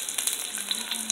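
A quarter cup of chopped onion hits a tablespoon of hot oil in a pan for chickpea bhuna, giving a steady, close, bright sizzling hiss with small crackles throughout.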